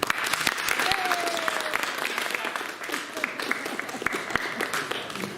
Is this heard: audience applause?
yes